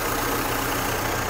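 An old International four-cylinder tractor engine of about 85 horsepower, some seventy years old, idles with a steady, even rumble that stays constant throughout, with no voices over it.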